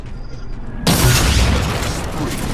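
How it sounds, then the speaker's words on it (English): Fusion coils shot in Halo 4 multiplayer set off a sudden loud, broad boom. A continuous roar of game noise follows and slowly settles, with a voice faintly present beneath it. "And then shooting their coils to get the next kill on SQUASHY."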